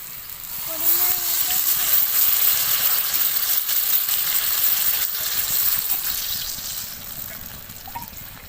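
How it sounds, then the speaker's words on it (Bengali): Water pours into a pot of chunky potatoes and spices for a spicy magur fish curry, a broad steady gush lasting several seconds, close and moderately loud, with faint speech beneath. "তো এরপরে আমি দিয়ে দেব পরিমাণ মতো জল"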